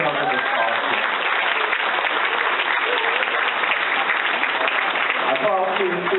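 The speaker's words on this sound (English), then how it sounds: "Let's give him a big applause" Steady, dense applause from a crowd at the 2014 Mr. Maui Hawaii pageant, filling the whole stretch without a break at an even, loud level, with some voices mixed in.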